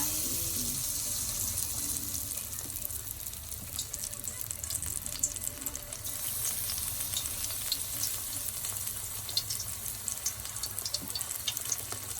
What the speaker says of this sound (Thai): น้ำมันเริ่มร้อนแล้วค่ะ ใส่ผักกูดลงไป